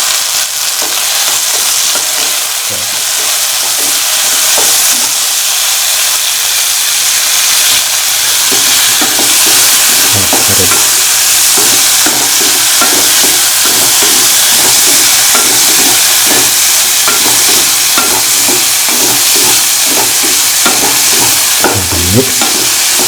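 Tomato stirred in a frying pan for a tomato dip, loud continuous sizzling hiss close up, with repeated scraping and stirring strokes running through it.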